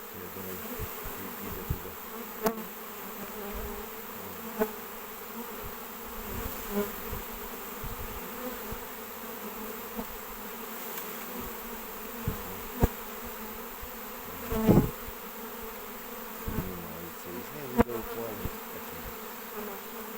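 A honeybee swarm settling into a box outdoors, a continuous close buzzing drone of many bees with occasional louder passes and faint knocks.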